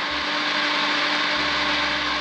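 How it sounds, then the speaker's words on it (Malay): An electric blender runs while mixing a batter of wheat flour, salt and yellow food colouring for kuih cara. It gives a steady, even motor whir with a low hum that shifts slightly partway through. "Satukan semua bahan dan kisar hingga sebati."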